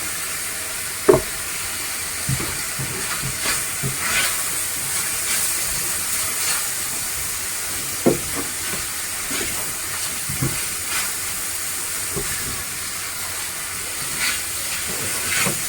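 Oil sizzles in a pan as paprika meat cooks, a continuous bright hiss broken by scattered sharp crackles and pops at irregular intervals, with no talking.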